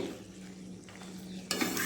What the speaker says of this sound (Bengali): আমটা আমার ভালোভাবে ফুটে উঠছে